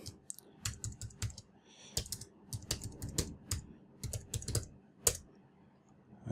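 Quick bursts of keystrokes on a computer keyboard while a password is entered, close and crisp, in short uneven runs with brief pauses between them.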